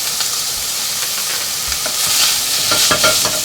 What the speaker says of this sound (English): We're just going to stir it up. So you get that ginger and that garlic all over everything.